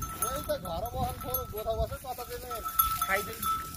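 Sheep being herded along a trail in the Nepali hills at Lamdanda, with several bleats overlapping in quick succession from a flock that is fairly close, faint bell tinkles and a person speaking at times.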